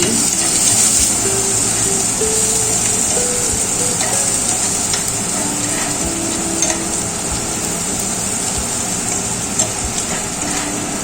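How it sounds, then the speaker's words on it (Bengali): Chopped onion and green chilli sizzle steadily in hot white oil seasoned with whole cumin seeds, a loud, dense frying hiss that runs without a break while the pan is stirred. "সাদা তেলটা গরম হয়ে গেছে ফোড়নে দিয়ে দিচ্ছি গোটা জিরে এবার দিয়ে দিচ্ছি পেঁয়াজ কুচি কাঁচা লঙ্কা কুচি তারপর নেড়ে ছেড়ে নিচ্ছি"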